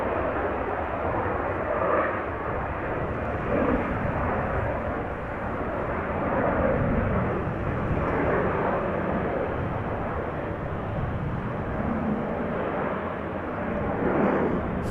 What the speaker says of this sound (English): Bizzjet taking off